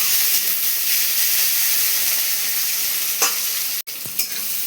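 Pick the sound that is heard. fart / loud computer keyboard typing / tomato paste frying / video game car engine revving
tomato paste frying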